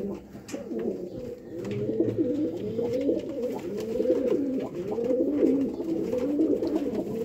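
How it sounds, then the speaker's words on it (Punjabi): Old Sialkoti pigeons cooing at close range, a continuous overlapping stream of low, rolling coos from several birds, fairly loud and steady, with occasional faint higher chirps behind. "ਪੁਰਾਣੇ ਸਿਆਲਕੋਟੀ ਕਬੂਤਰ ਨੇ, ਖੁਸ਼ਕ ਪੰਜੇ ਮਾਸ਼ਾਅੱਲਾ"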